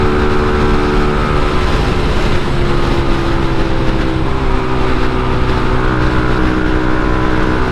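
A Yamaha RFS150i motorcycle engine runs steadily while riding, a loud, continuous droning hum with constant rumble and no pauses, close and filling the whole stretch.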